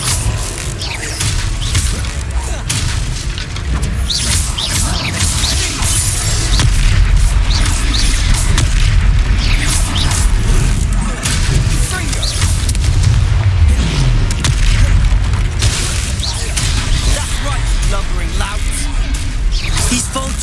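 Confringo fire spells in Hogwarts Legacy explode again and again as booming blasts with whooshes and crashes, loud and continuous throughout a chaotic fight, with voices and battle noise mixed in.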